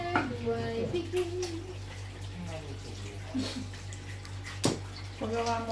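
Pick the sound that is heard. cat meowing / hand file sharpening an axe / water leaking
water leaking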